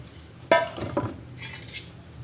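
Custard fruit chaat being mixed in a bowl with a spoon, a sharp clink of utensil on dish followed by a few softer scraping knocks and a faint rustle, close and brief, with no talking.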